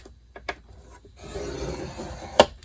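A scoring tool is drawn across cardstock for a box, giving a soft scraping rasp through the middle of the span, with a couple of light taps before it and a sharp click near the end. The sounds are close and no one talks.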